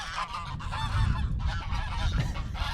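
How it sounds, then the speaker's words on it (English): Five geese honk loudly and repeatedly close by, overlapping calls filling the whole stretch as they arrive at a nesting spot. "Here come the geese."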